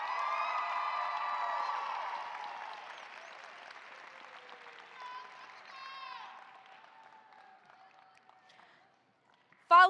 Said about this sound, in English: let's go ahead and give another round of applause for our amazing backstage crew